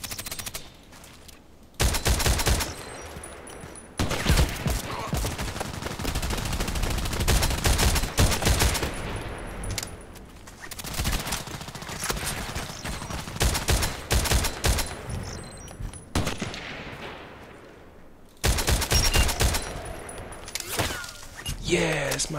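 Rapid bursts of SVD-S sniper rifle gunfire in a video game, several loud cracks and volleys spread across the clip, with dense in-game battle noise in between and brief near-silent gaps.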